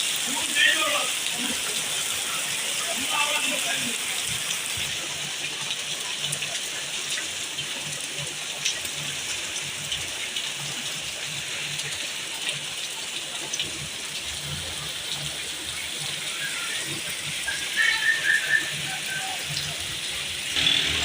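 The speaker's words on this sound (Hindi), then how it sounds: "बड़ी तेज़ बारिश हुई" Steady heavy rain hisses continuously on surfaces nearby in Chakswari, a dense even patter with a few faint sounds in the background.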